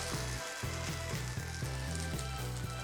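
Bun dosa batter sizzles and fries steadily in a pan, a continuous close crackle with a faint rhythmic pulsing underneath and no talking.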